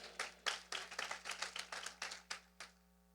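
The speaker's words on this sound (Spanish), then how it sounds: "Fuerte aplauso para Andreina" Classroom applause for a student during a Bible class, a small group clapping in about a dozen distinct, fairly close bursts that trail off at the end.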